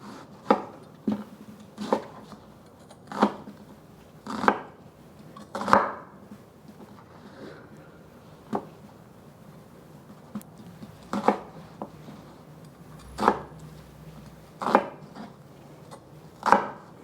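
A knife chops an onion into large pieces on a cutting board, sounding as about a dozen separate sharp thuds spaced a second or two apart, close and fairly quiet over a low background hum.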